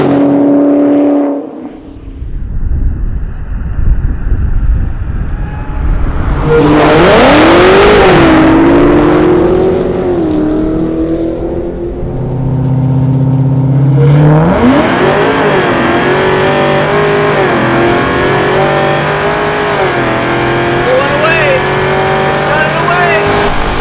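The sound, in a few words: 1000 hp Dodge Hellcat Redeye and Super Stock street racing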